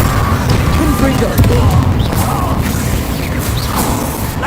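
Confringo blasting spell in Hogwarts Legacy, a loud rumbling explosion that stays dense and booming throughout, with crashing debris and battle noise.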